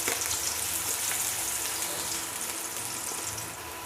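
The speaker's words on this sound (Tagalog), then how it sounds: "Ilalagay na tayo ng mantika dahil tayo ay magigisa ng ating bawang." Garlic sautés in hot cooking oil in a pan with a constant close hiss and soft crackle, fading slightly toward the end, and no speech over it.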